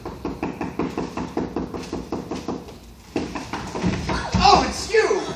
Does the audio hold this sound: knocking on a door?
yes